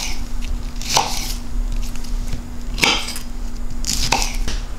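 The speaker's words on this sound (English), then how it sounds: "So quarter all your Brussels sprouts to start." A knife quarters Brussels sprouts on a cutting board in a kitchen, giving three or four sharp, distinct chops spaced a second or two apart over a steady background hum.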